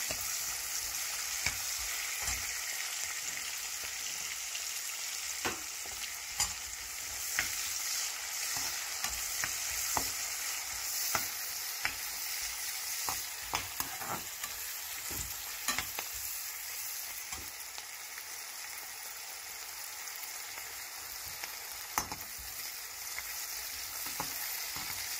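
Zucchini sizzles steadily in a hot pan for Indian-style sabzi, with frequent scraping clicks of a spatula stirring the pieces throughout, close and continuous with no voices.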